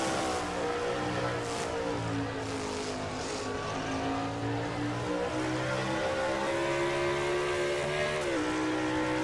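A race car engine roars at Sonoma in a truck-series racing video game, a loud continuous whine that holds steady with slight pitch shifts as the truck runs through turns.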